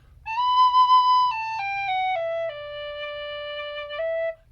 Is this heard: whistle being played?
yes